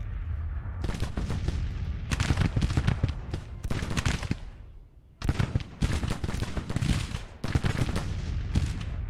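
Troops fire in a Grand Tactician battle as dense, crackling volleys of rifle fire roll on almost without pause, with one brief lull midway before the shooting resumes as loud as before.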